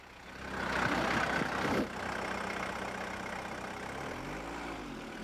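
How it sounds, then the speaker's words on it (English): A Volkswagen Golf turbo diesel engine runs steadily with a low, even drone that holds at a fairly constant level throughout, heard alone. "The combination of the turbo and the oxygen catalyst mean this diesel engine runs a lot cleaner"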